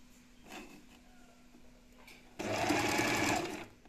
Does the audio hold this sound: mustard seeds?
no